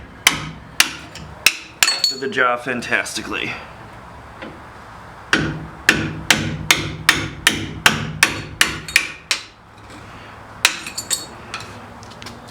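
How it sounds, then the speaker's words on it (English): Sharp metallic hammer taps on a flathead screwdriver removing rear brake pad shims from a 2004-2014 Ford F150 come in quick bursts and irregular runs, close and loud, with someone talking briefly between strikes. "We want to remove your brake pad shims, and flathead and a hammer"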